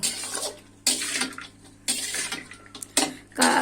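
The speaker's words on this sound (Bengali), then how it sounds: "আবারও ছোলার সঙ্গে কাঁঠালগুলো ভালোভাবে মিশিয়ে নিব।" Fried jackfruit and soaked chickpeas get stirred together in a pan, loud scraping and clattering strokes that come in four or five separate bursts with short gaps between them.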